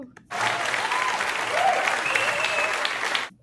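A studio or podcast audience applauds for actress Jessica Paré in a steady burst of clapping lasting about three seconds, dense and even throughout, with faint cheering or whoops mixed in before it cuts off abruptly.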